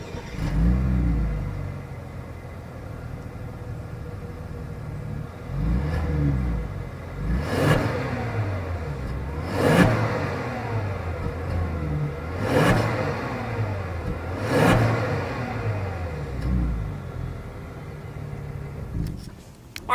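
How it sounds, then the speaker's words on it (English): A 2020 Hyundai Genesis G80 Sport sedan engine revs repeatedly in sharp bursts, each climb to a loud roar settling back to a deep burbling idle, close and alone. "As always, here is that exhaust clip."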